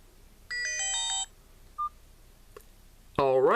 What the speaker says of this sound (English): But that's my ringtone, and that's the one I've selected.